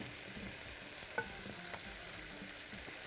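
Seafood, including calamari, fries quietly in a pan with a soft, steady sizzle and a few faint pops and clicks. No voices are heard.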